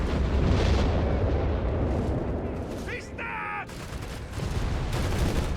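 A mortar barrage in Company of Heroes 3 lands as a run of heavy explosions and rumbling booms. A short tonal effect cuts in midway, and a voice talks over the action.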